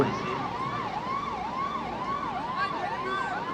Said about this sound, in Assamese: ইতিমধ্যে এম্বুলেন্সখন আহি পাইছে আৰু লগতে ফায়াৰ ব্ৰিগেডৰ গাড়ীখনৰ লগে লগে আহিছে